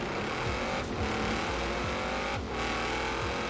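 Car engine roaring at high revs while driving off-road in Forza Horizon 4, loud and close, with pitch sweeps and a tire squeal as the vehicle lurches around.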